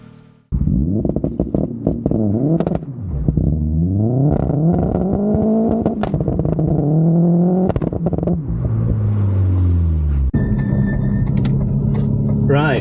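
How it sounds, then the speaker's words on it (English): A hot hatch with a newly fitted AP Racing big brake kit is rocked backward and forward on a driveway. Its engine note rises and falls in repeated loud, close surges, then settles into a steadier drone near the end. "I'm just going to rock it backwards and forwards on the drive to make sure the brakes actually work"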